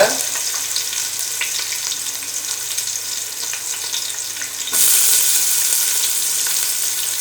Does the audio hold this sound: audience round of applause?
no